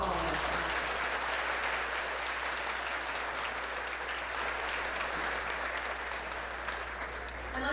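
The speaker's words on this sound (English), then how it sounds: "Please, a round of applause for all of them." An awards ceremony audience gives a sustained round of applause, dense and even throughout, with a low steady hum beneath the clapping.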